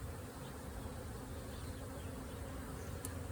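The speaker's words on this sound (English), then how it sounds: "There's still a lot of young bees here." A steady, dense hum of many honey bees buzzing close by during a hive inspection, continuous with no talking.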